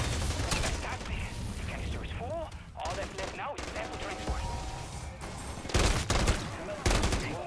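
Rapid gunfire in Call of Duty MW3 Zombies, with sustained automatic bursts, weapon mechanisms and sharp impacts, while players talk over the fighting.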